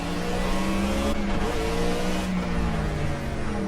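Ford Fusion stock car in the Project Cars racing game: a loud, steady engine drone with shifting revs and a brief dip, running alone without voices.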